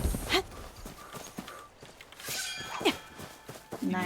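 Horse hooves clip-clopping in a video game, a few uneven hoof thuds with occasional chime-like game sounds, fairly close and without talk.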